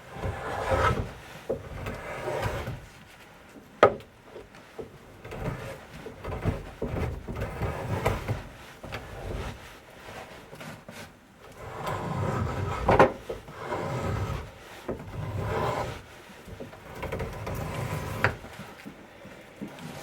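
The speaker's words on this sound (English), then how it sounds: "Shaving it this way allows me to get the rough shape that I want" A drawknife shaves a hardwood board being rough-shaped into an axe handle, giving repeated rasping, scraping strokes at an uneven rhythm, close and fairly quiet, with occasional sharp knocks and no speech.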